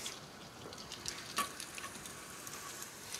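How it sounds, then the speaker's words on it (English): Finely chopped shallots fry in a knob of butter in a home-kitchen pan, giving a soft, steady sizzle with small crackles and one brief louder spit, close by and with no talk. "Shallots into the pan."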